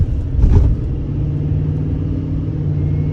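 A 2022 Chevrolet Silverado 3500HD High Country pickup truck accelerates lightly, a steady low engine hum and road rumble heard from inside the cab, with a brief louder swell near the start.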